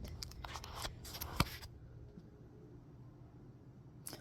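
Scissors snip through cinched zip ties on a metal dog crate rack: a cluster of quick sharp cuts with one crisp close snip, then quiet, and a last snip at the end.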